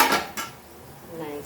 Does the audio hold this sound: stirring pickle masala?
yes